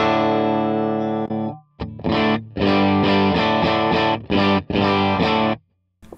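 Electric guitar runs through a Fractal FM9 amp model with a punchy, full mid-range crunch: a held chord, then a choppy rhythm of short distorted chord stabs separated by brief gaps.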